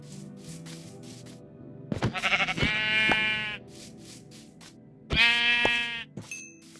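In the Minecraft video game, a sheep gives two loud, wavering bleats a few seconds apart over soft background music, with no talking.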